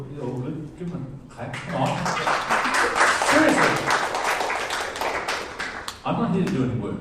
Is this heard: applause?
yes